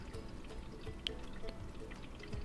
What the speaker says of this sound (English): And then it will fill with water